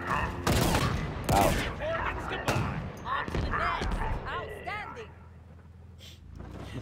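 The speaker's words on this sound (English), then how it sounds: "They just activated the base's defenses, yep. I thought they were shooting at the silos for a minute." Base defense turrets open fire in Halo Infinite, bursts of heavy gunfire booming through the first half and mixing with game effects, while someone speaks over much of it.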